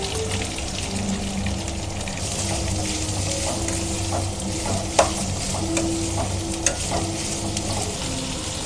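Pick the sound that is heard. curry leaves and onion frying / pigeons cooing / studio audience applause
curry leaves and onion frying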